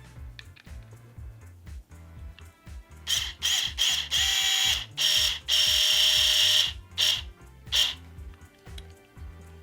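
A screwdriver drives screws into a Smart Doll Cortex Mirai frame, producing several short, close, scratchy ratcheting bursts separated by pauses, with soft music running beneath.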